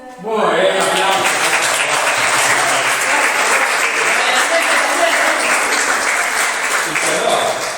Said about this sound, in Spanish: Muy bien, aplausos.